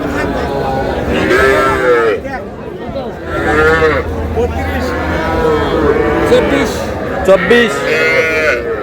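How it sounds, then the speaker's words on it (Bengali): A five-month-old Sahiwal heifer calf moos in long, close calls at a cattle market, several lowing cries in a row over background chatter and people talking. "শাহিওয়ালের বকনা।"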